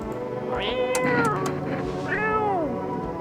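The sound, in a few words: cat meowing in the video game No I'm Not a Human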